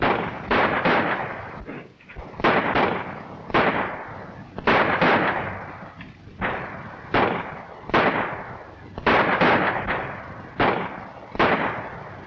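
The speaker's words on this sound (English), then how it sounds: "For the sounds of the shooting outside, I'll say it won't too." Repeated gunshots crack outside at irregular intervals, each one loud and echoing, with the reports following each other steadily over the whole stretch in a 1935 film scene.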